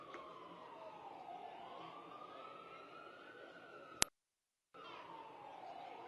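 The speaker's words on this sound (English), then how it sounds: "That's a siren." An emergency vehicle siren wails near a street rally on Wall Street, a steady rising and falling tone at moderate distance, broken by a sharp click and a brief cut to silence before resuming.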